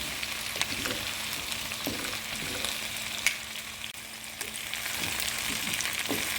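Pumpkin curry fries in a pan while being stirred, giving a steady, moderate sizzle throughout with soft scraping and occasional light clicks from the spoon.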